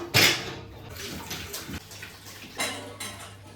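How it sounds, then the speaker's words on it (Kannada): Dishes are washed in a home kitchen sink: pots and cutlery clink and clatter repeatedly against running water, close and moderately loud. "ಪಾತ್ರೆ ಎಲ್ಲ ತೊಳೆದಾಯ್ತು"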